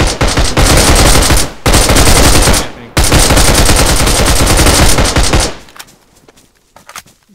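Loud, sustained automatic gunfire in the survival video game DayZ, rapid dense bursts roaring almost continuously with two brief pauses before cutting off, followed by a few faint scattered shots.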